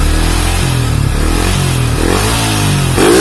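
A Yamaha Vixion motorcycle engine, close by, rising and falling in a few quick throttle blips over a steady idle, loud and alone with no talk.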